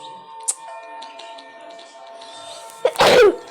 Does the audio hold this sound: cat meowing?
no